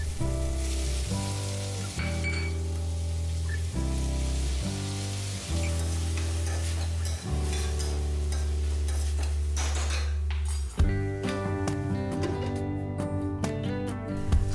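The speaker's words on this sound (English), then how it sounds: "In a kadai, I'll add some olive oil and saute thinly sliced onions and crushed garlic." Onions, garlic and vegetables saute in olive oil in a kadai, with a steady hiss and occasional stirring scrapes under loud continuous background music.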